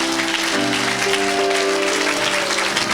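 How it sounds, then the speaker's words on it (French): Steady, dense applause from a church congregation at an evangelistic preaching service, filling the whole moment loudly and evenly with a faint sustained tone running underneath. "Je crois que tu allais acclamer encore pour cette parole"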